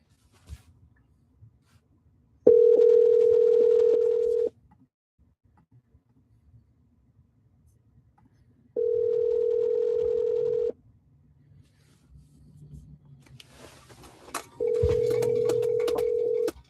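Outgoing ringback tones while calling a realtor's phone line: three steady two-second tones separated by long silent gaps, clear and close, with faint background noise and no talking.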